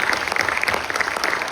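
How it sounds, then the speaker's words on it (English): A conference audience applauds after a keynote address: continuous, even clapping from a roomful of people, moderately loud and unbroken for the whole short stretch. "I think this calls for a huge round of applause"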